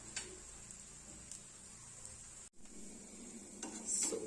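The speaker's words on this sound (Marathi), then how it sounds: "आणि दोन्ही बाजूनी मस्त खरपूस असा पण हा डोसा भाजून घेणार आहोत" A mixed lentil dosa roasting on a hot pan gives off a faint, steady sizzle with a few soft scraping touches and a brief gap midway.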